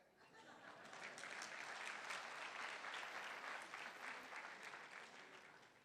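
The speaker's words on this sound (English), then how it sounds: "Can you give yourself a clap?" A seated audience at a laser-therapy device presentation claps for itself, the applause swelling from a soft start into a full, dense patter of many hands and easing slightly near the end.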